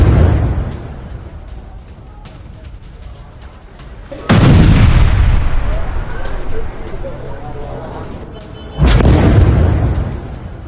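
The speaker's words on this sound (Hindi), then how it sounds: "राफा पर इजराइल की भीषण बमबारी की ये देर रात की तस्वीर सामने आई है, जहां इजरायली एयर स्ट्राइक में दर्जनों घर तबाह हो चुके हैं।" Two heavy, loud blasts from Israeli airstrikes on Rafah at night, each a sudden boom followed by a long rumbling decay, over a low background hum.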